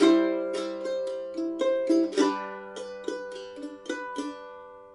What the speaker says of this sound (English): picking some notes. So it's starting each bar with a strum.